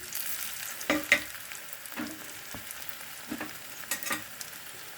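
Oil sizzles and crackles steadily in a pan as dried chilies, coconut, pepper, cumin and turmeric fry, with a few louder pops and stirring scrapes scattered throughout; no voices.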